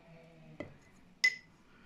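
A spoon mixing sourdough starter in a bowl, with two separate light clinks, the second brighter and sharper, set against near silence.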